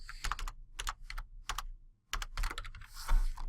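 Typing on a computer keyboard in quick clustered bursts of close, crisp key clicks separated by short pauses, with no voice over them.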